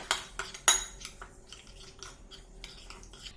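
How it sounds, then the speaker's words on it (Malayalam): Creamy chickpea salad dressing whisked in a bowl with a spoon, sharp close metallic clinks and scrapes in an irregular rhythm, no voices. "നന്നായിട്ടൊന്ന് മിക്സ് ചെയ്ത് കൊടുക്കാം."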